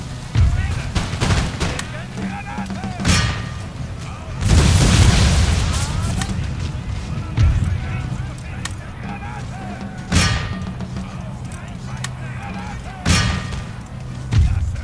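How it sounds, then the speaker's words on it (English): Grenades exploding in the Empire: Total War video game during a Prussian campaign battle, several heavy booms bursting over continuous battle noise and crackling musket fire. "those grenades popping"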